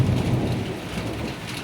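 A thunderstorm over Pouvereau with heavy rain hissing close by and a deep, rolling rumble of thunder underneath that is loudest at the start, then eases slightly.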